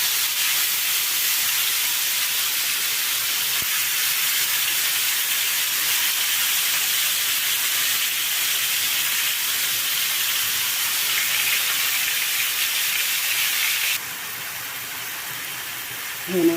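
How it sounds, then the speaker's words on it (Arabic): Marinated shawarma meat fries in a pan of hot oil with a loud, steady sizzling hiss that runs nearly unbroken, dropping in level near the end, with no voices. "بننزل بيها كده في طاسة فيها شوية زيت سخنين."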